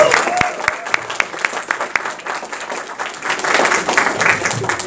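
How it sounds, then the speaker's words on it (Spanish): An audience at an evening business presentation breaks into strong applause for the next speaker, a dense, steady clapping that holds for about five seconds with a few sharper claps standing out. "les voy a pedir que le demos un fuerte aplauso a mi hermano Renato Rivarola"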